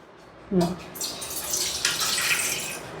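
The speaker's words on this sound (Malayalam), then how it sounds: "ഫസ്റ്റ് വെള്ളം വയ്ക്കും" Water runs into a cooking pot from a tap to boil Korean Buldak ramen noodles, a steady close splashing and hissing pour that starts abruptly and continues to the end, with a brief voice near the start.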